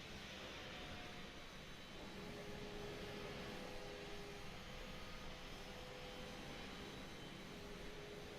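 A simulated A320neo jet engine spooling up in Microsoft Flight Simulator 2020, a steady, dense roar with a faint rising whine, holding constant and loud throughout with no talking.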